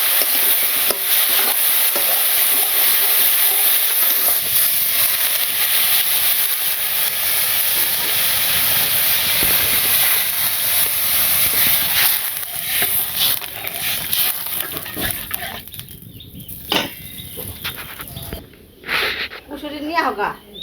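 Green chilies and vegetables sizzle and hiss steadily in a pan over a village cooking fire, loud and close, with stirring scrapes and voices talking over it.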